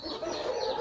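Hens clucking and squawking as they fight one another, with a busy run of close, overlapping clucks, no talking.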